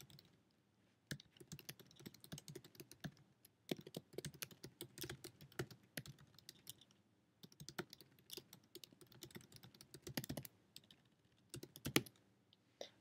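Typing on a computer keyboard, quiet rapid clicking in irregular bursts with short pauses between, close by and alone.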